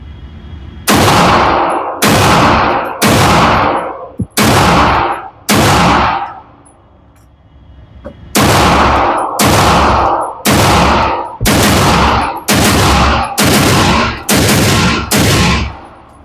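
Pistol shots ring out at a shooting range aimed at targets, loud and close: five evenly spaced blasts, a short pause, then a faster string of about eight more, each with a ringing tail.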